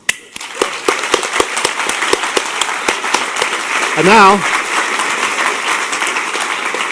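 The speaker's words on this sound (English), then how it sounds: "But I think we all deserve a round of applause for number one." Audience applauding at the closing ceremony of the HOPE Number Six hacker conference, a dense rattle of many hands filling the hall throughout, with a speaker's voice over the clapping and a brief tonal sweep near the end.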